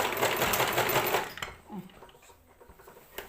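Sewing machine stitching a churidar slit, a fast close rattling run of needle strokes for over a second, then stopping with a few faint clicks and handling sounds.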